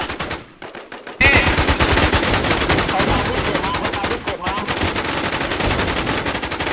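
Sustained rapid automatic gunfire from a shooting video game, loud and dense, with a short gap near the start and then near-continuous bursts.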